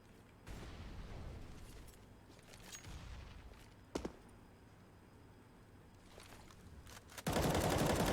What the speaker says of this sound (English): It's like a vice grip, that spray from Recoil Master